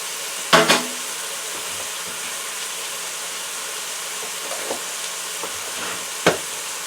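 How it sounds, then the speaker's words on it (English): Garlic paste hits a hot wok with a brief sharp sizzle burst, then settles into a steady hiss punctuated by a few light stirring clinks and another short crackle near the end. "I'm going to add about a teaspoon of garlic paste."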